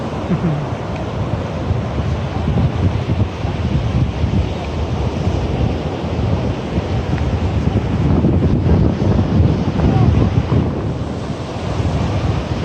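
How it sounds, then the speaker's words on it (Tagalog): Steady roar of ocean surf washing onto a beach resort shore in Nasugbu, Batangas, with wind buffeting the microphone and a swell in loudness as a larger wave breaks. "Isang alon o."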